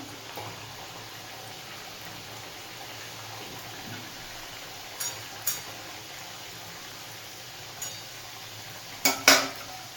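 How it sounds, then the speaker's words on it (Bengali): Gokul pitha frying in hot oil over low heat: a quiet, steady bubbling hiss with a few sharp metallic clinks of a spoon or pan near the end. "তেলটা গরম হয়ে গেছে এরপর আমি একে একে ভেজে নেব গ্যাসটা কমিয়ে ভাজতে হবে"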